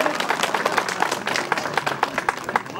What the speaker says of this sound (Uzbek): Chiroyli qarsaklarni cho'linglar.